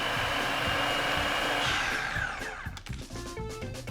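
Blender grinding a mole base into a finer paste, a loud, steady whirring motor roar that winds down and sputters out near the end, with no talking.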